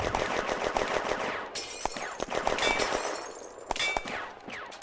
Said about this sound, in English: Lefranc is taking fire from the gun to his left and the infantry to his front.